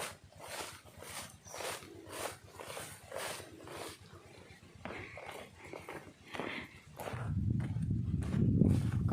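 Cattle moving about a rice field in rural Thailand, with soft plodding hoof steps and shuffling that run steadily throughout, rising into a louder, rougher rumble near the end.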